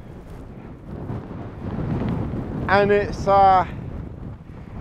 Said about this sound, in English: it's definitely quite windy